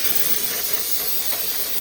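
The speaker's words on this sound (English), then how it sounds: "spray it down" A jet of water sprays hard onto a gunked-up pressure washer part to rinse it clean, giving a steady, loud, unbroken hiss throughout.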